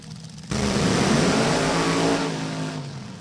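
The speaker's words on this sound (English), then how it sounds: "Short burnouts there for both." Two NHRA drag racing cars at Virginia Motorsports Park roar through short burnouts, a sudden loud blast of engine noise that starts abruptly, holds steady, then begins to ease off.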